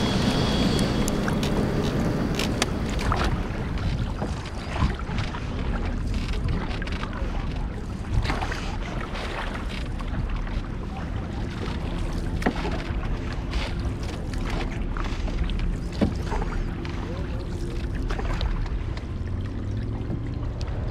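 A canoe crossing Halifax Harbour near a shipyard, with steady broadband water wash and wind noise throughout, faint paddle splashes and low harbour rumble underneath, no voices.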